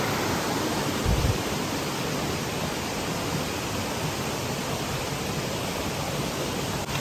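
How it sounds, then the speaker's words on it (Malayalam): Broad, steady roar of water tumbling and foaming at Tiffany Falls, a small waterfall in Hamilton, Canada, heard close and continuous with no voices throughout. "കണ്ടോ വെള്ളം പതഞ്ഞു പൊങ്ങുന്ന സൗണ്ട്"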